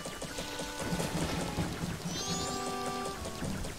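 Steady rain with rumbling thunder in the N64 game The Legend of Zelda: Majora's Mask, a continuous wash of downpour with tonal game music layered over it throughout.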